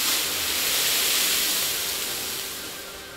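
Loud, broad hissing of steam bursting up as water hits burning cooking oil in a kitchen fire, holding strong, then gradually fading away.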